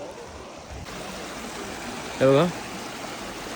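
A clear mountain stream runs down to a roadside stop on the road from Padum to Leh in Ladakh. Its steady rushing flow continues throughout, and a person speaks briefly over the water.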